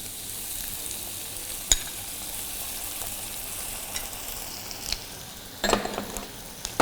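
Onions frying in a pan with ginger garlic paste for Delhi-style butter chicken give a steady close hiss and sizzle, with a few sharp clicks and stirring scrapes near the end and no talking.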